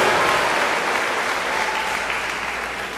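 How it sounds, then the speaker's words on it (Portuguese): Sustained congregation applause with shouts of victory at a Baptist church service, a dense, even roar of clapping and cheering that holds steady throughout and fades slightly at the end. "Aplauda o Senhor com brado de vitória."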